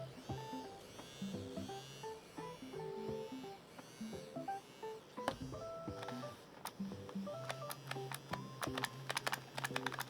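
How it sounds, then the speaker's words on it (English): A Ragnok 2 FireGrip gun-shaped gaming mouse gives quick repeated clicks, each with a short buzzing vibration, and a sustained buzz while the button is held. The sounds are faint and close, and there is no talking. "And every time I click, it vibrates. If I'm holding, it just keeps vibrating."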